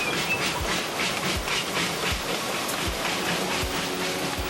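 The Eureka, a narrow gauge steam locomotive on the Durango and Silverton line, chuffs in a steady, regular rhythm with a hissing steam background, heard moderately close with no talking.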